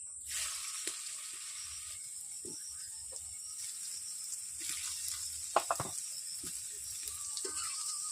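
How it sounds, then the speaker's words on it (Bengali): Paneer sizzles faintly in hot oil in a wok, a thin steady hiss with a few soft knocks and taps scattered throughout, no voices. "কড়াইতে আমি তেল দিয়ে দিচ্ছি, তেল গরম হচ্ছে। ওতে আমি পনির দিয়ে দেবো।"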